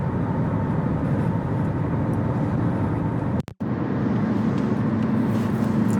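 A 2023 Honda HR-V EX-L on a test drive makes a steady, loud cabin drone of road and engine noise that cuts out briefly midway and then resumes.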